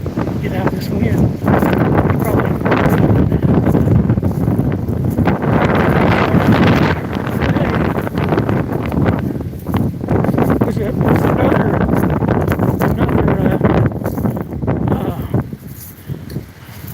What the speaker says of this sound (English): you can hear the winds really blowing